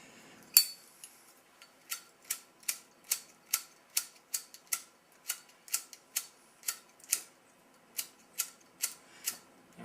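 A Zippo lighter with a wet wick struck over and over, a run of about twenty sharp metallic flint-wheel rasps in a fairly even rhythm, close and crisp against near silence.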